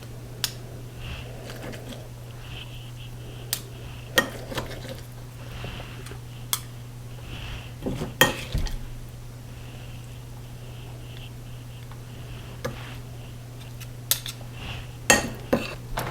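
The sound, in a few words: spooning casserole topping with two teaspoons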